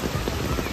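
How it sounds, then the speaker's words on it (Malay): Steady rain pattering on a surface at a family campsite, a dense continuous hiss with soft irregular drops throughout, moderately close, with no voices. "So sekarang sampai-sampai tu hujan."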